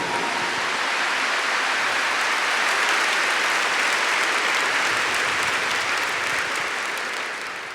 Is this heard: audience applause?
yes